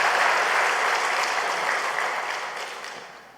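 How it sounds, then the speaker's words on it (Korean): Church congregation applauding a choir during a Sunday service, a steady wash of many hands clapping that stays loud and slowly fades toward the end. "다시 한번 뜨거운 박수로 우리 박수."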